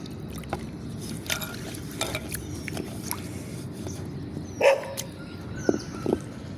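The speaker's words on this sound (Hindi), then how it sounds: "पड़ोसियों के कुत्ते।" Neighbours' dogs bark a few times at a distance, brief faint yelps scattered over a running watery background, with one louder bark near the middle.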